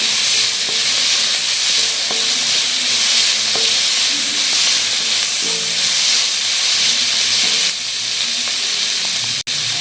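Loud, continuous sizzling of onions sautéing in a pan, with occasional soft scrapes from stirring and a sharp click near the end.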